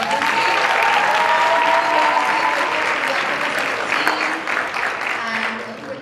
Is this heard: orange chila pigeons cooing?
no